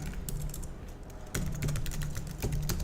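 Keyboard typing, rapid clattering keystrokes over a steady background hum, with a louder flurry of keys partway through.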